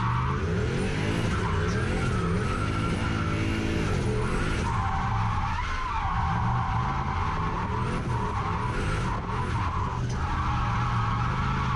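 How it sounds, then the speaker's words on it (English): A turbocharged 1UZ V8 Lexus LS400 drifts around a track, engine roaring loud and close as tires squeal and skid through a long slide, the revs dipping and climbing again partway through. "then loads and loads of handbrake to keep it sliding"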